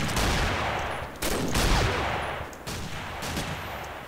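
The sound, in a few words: gunfire in Combat Arms video game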